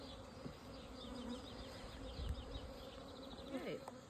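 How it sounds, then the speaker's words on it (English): Honeybees buzz around a beekeeper working near the hives on a warm day. A continuous, fairly faint hum fills the air with no clear talk, and an occasional bee drones closer for a moment. "Bees are following me everywhere."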